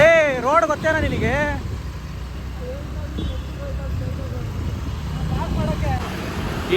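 Road traffic in Bengaluru heard from inside a car: a low, steady engine and road rumble runs throughout, while people talk over it and occasional horn-like tones sound from nearby vehicles.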